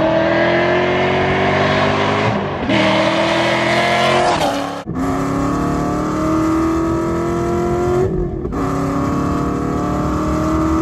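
A 2020 Ford Shelby GT500 with a supercharger and a swapped-in manual stick shift revs loudly and up close, its engine note climbing through a couple of pitch sweeps with brief dips between pulls.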